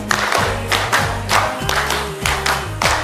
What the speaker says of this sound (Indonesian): tepuk 2, tepuk 3, tepuk 4, tepuk 5. Oke, tepuk 5 2 kali.